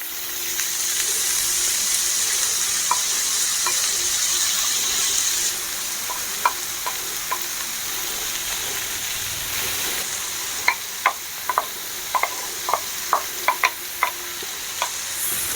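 Shredded cabbage fries and sizzles in a hot pan with a steady hiss while a spatula stirs it, clicking and scraping in scattered bursts, louder toward the end, for a veg roll filling.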